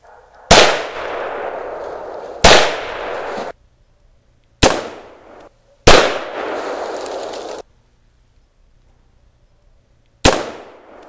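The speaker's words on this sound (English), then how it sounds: "Alright, M4 Sig-Sauer. We're going to be shooting a little bit of tannerite." Sig Sauer M4 rifle shots at a small tannerite target outdoors: five sharp, loud reports spaced a second or two apart, each with a ringing decay, no talking.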